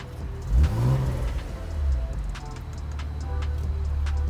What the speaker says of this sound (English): let's give it a little revy rev right now